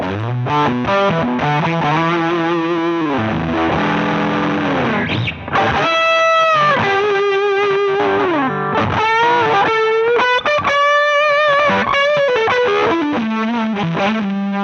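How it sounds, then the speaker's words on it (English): An electric guitar played through a Hamilton Effects Embers fuzz pedal with nothing else in the chain, loud and saturated, moving from chugging low notes and chords to sustained singing leads with fuzzy distortion. "we need to check out what it sounds like as a standalone fuzz first"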